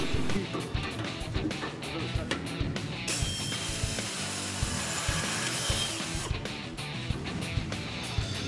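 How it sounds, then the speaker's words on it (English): A power drill with a quarter-inch bit bores through a Mustang frame rail from below, producing a loud, continuous grinding whir with uneven surges and scraping, close up and with no talk. "drill through the top of the frame rail from the bottom using the Aluma-Frame cradle as a template"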